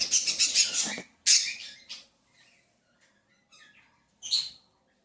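Young pet birds in a cage giving a run of quick, close chirps and squeaky calls, then scattered fainter tweets and a final short burst, with no talking.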